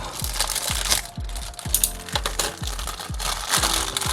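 A plastic bag crinkles close up while an anime figure from Love Live! Sunshine!! is unpacked, giving a steady crackling rustle over repeated soft low thuds.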